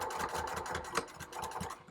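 A sewing machine back-stitching to reinforce a heavy-duty webbing strap tab on a drawstring bucket bag, running in a steady rapid chatter for about two seconds with no talk.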